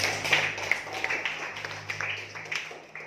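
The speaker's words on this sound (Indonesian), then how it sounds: "Tepuk tangan untuk kelompok 1." A classroom of students claps for a student group after its reading at the front, a dense crackle of many hands that carries steadily across the whole stretch at moderate loudness.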